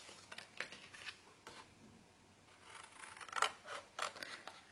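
Scissors trim the white border from paper cards at a scrapbooking craft table, giving quiet, close snips in an irregular series with brief pauses between them and no talk.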